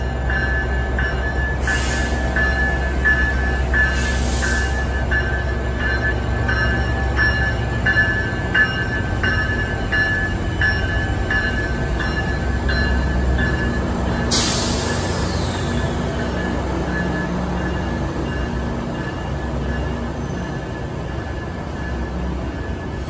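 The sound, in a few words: passenger diesel locomotive train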